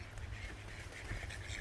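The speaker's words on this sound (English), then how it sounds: "Oh, I hear some birds." Faint duck-like quacking calls from birds on a farm, a few brief squawks over a steady low rumble of background noise.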